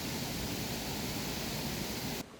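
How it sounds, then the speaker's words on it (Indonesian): Steady broadband rush of a river and waterfall at Ngargoyoso, Karanganyar, Central Java, loud and continuous without a break, cutting off abruptly near the end. "dengar suara aliran sungai, suara air terjun"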